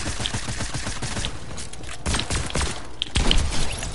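Shotgun blasts go off in a video game as a series of sharp, punchy reports mixed with mechanical clatter and thuds, growing heavier toward the end.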